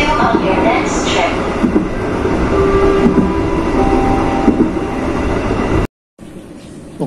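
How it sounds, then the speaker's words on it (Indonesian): The Serayu passenger train arriving at Tasikmalaya station rumbles steadily with rolling clatter and a few squeals, heard from inside close by, with a brief cut before the noise continues. "kereta api Serayu tiba di stasiun Tasikmalaya"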